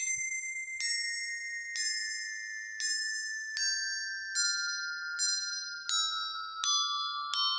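Bright handbell tones from the Holiday Bells iPhone app, about ten clear rings in a steady sequence, each note struck and left to ring out alone, stepping gradually lower in pitch.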